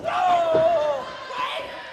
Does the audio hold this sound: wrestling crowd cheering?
yes